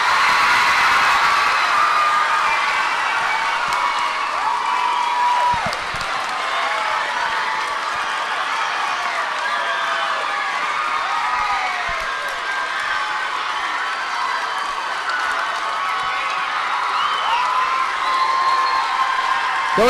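A school audience at a middle school Teacher of the Year ceremony applauds and cheers in a steady, loud wash of clapping with scattered whoops that carries on throughout.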